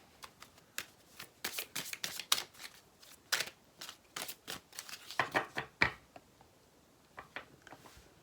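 Playing cards are shuffled, flicked and laid down in a rapid series of sharp, close snaps and slaps, some in quick bursts and others spaced out, with no voices.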